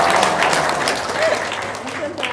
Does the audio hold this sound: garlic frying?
no